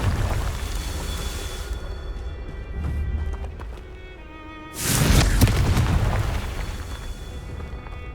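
A Confringo fire spell explosion in the Hogwarts Legacy video game, a sudden loud burst halfway through that roars and fades slowly, following a stretch of lighter rumbling combat noise.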